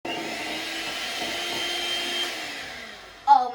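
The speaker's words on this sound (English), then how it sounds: "Now let's whisk." Chocolate cake batter being whisked with an electric mixer, a steady close whirring drone that holds for about three seconds before a louder clatter near the end, no voices.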